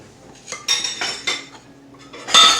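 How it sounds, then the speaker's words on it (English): Buttermilk being mixed into cornbread batter in a bowl, heard as a handful of distinct clinks and scrapes of a utensil against the bowl in irregular bursts, close and clear with quiet gaps between. "go ahead and mix that in"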